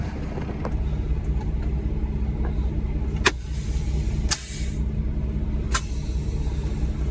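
A car carrier truck turns around and heads up the road, its engine a steady low rumble throughout, with a few brief clicks and rattles over the drone and no voices.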